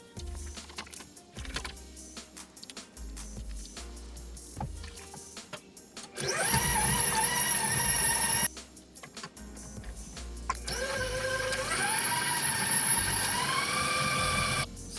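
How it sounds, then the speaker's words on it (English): A stand mixer beats butter and cream cheese for a lemon pound cake, starting with irregular clatter and thumps and then rising into a loud whirring motor whine that drops out briefly and returns. "next up is for me, the stand mixer. I'm going to mix the butter and the cream cheese"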